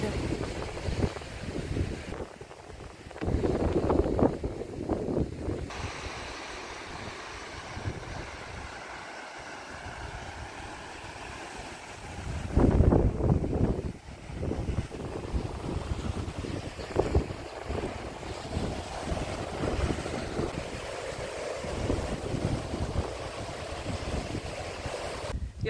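Strong gusts of wind batter the microphone on the seaside promenade in Chornomorsk, roaring up in loud bursts and then easing off, with someone speaking between them and waves faintly audible beneath.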